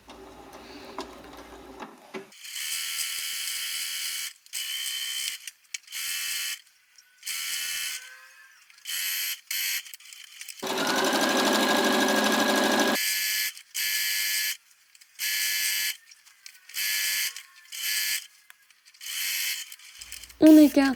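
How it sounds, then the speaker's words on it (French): A sewing machine stitches seams 1 cm from the fabric edge in repeated short start-stop bursts of rapid mechanical whirring and ticking, with one longer continuous run in the middle, close and clear. "Et on réalise des coutures à 1 cm du bord."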